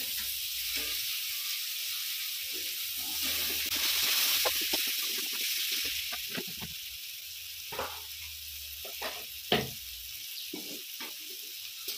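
Ground coriander and cumin sizzle in oil for a mutton curry, a broad crackling hiss that swells and then eases, followed by scattered spatula scrapes and taps as the spices are stirred up close.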